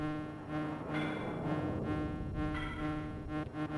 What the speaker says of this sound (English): And the frickin' bees again.